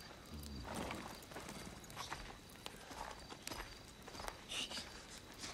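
Hooves clop on hard ground as horses walk, uneven steps close by with faint rustling and shuffling around them.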